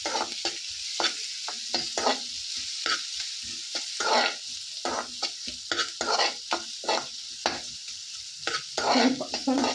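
Onions frying in a pan, a soft crackling sizzle broken by repeated scraping stirs in an uneven rhythm, close and fairly quiet.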